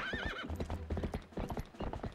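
A horse in Zelda Twilight Princess HD clip-clops with quick hoof strikes and lets out a high, wavering whinny, close and loud, the hooves continuing after the neigh fades.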